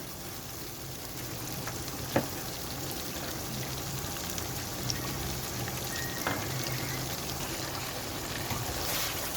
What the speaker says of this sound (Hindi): ये देखें, ये हल्का हल्का फ्राई होना शुरू हो गया।